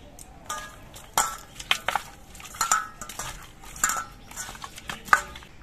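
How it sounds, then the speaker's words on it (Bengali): Washed river fish being rubbed by hand with salt and turmeric powder in a metal bowl, with sharp clinks and scraping knocks against the bowl at an uneven pace, close up and without talk. "এবার এই মাছের মধ্যে নুন আর হলুদের গুঁড়ো মাখিয়ে নিচ্ছি।"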